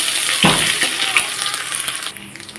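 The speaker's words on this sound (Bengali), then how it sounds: "তো ফোড়নে দিয়ে দিচ্ছি আদা থেতো।" Hot tempering oil sizzles as crushed ginger and bori are fried in it, a close, steady crackling hiss with a sharper burst as the ginger goes in and light stirring noises.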